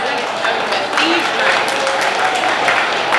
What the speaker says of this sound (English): a round of applause for everyone at Wichita Union Stockyards